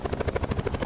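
A Call of Duty Black Ops 4 Blackout helicopter hovers nearby, its rotor blades thumping in a fast, steady rhythm over a deep engine drone, loud and alone.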